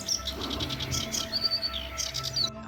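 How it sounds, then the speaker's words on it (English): A chiffchaff sings off to one side in a wetland reserve, a faint, thin run of high repeated notes over a steady background hum. "joined by an off-camera chiff-chaff which you can hear in this clip"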